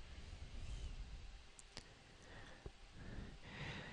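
A few sharp, quiet mouse clicks, spaced apart, while setting up the Dell EqualLogic adapter software for VMware SRM 5. The clicks sit over a faint background hiss, with no talking.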